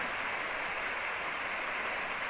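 Fast-flowing floodwater rushes through a rural area in Chaiyaphum after heavy flooding, a steady broadband roar that stays even and fairly distant with no voices.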